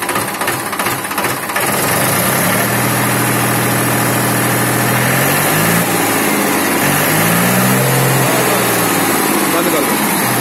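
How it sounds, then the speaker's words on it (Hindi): A Mahindra 265 tractor engine cranks, catches and settles into a loud, steady, close-up diesel idle with a rough, knocking rumble that continues throughout. "आवाज दिखाऊंगा ट्रैक्टर की"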